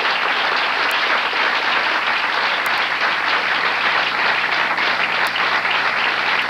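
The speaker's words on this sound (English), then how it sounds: "Please, a warm Portland welcome, if you would, to Robert Sweets" A studio audience at an afternoon talk show applauds steadily and warmly to welcome a guest, a dense, even clapping that fills the whole stretch without talk.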